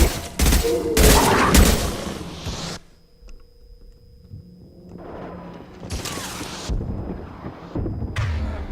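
Assault rifle fire in Mass Effect 2, loud rapid bursts at the start, a pause with quieter in-game ambience and tones, then more bursts of shots near the end.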